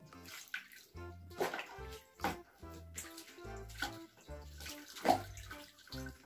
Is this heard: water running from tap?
yes